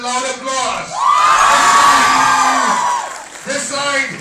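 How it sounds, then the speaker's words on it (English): A crowd cheers and whoops for the winners announced at a university anti-drug awareness programme. One loud sustained shout rises over dense, close crowd noise for several seconds before fading. "I could not hear the loud applause."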